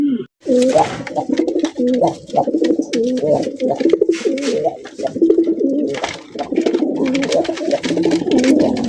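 A male Kaldom pigeon coos in repeated throaty phrases at close range on a pigeon farm, with people talking over and between the calls.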